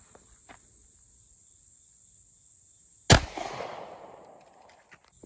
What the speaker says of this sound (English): Next up, 9mm out of this AREX.